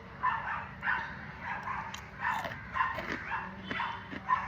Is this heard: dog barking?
yes